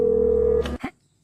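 A telephone number is keyed in: a steady tone gives way to a couple of short dialing beeps and a click, close and clear, then quiet.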